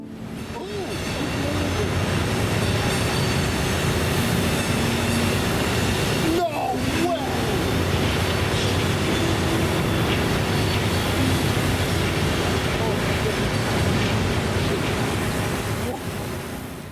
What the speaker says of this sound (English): The first BNSF train was an eastbound intermodal that was powered by a solid consist of H1-9s